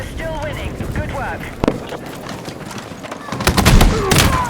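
Gunfire rings out in Battlefield 6 during a Conquest match: a few sharp shots and bursts over busy game noise, with the loudest cracks near the end.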